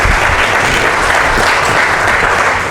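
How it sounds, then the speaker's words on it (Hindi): Audience applause at a poetry open mic event, loud and dense sustained clapping from a large crowd throughout, with no talking. "यहाँ से वहाँ तक ज़ोरदार एक बार तालियाँ बजा दें।"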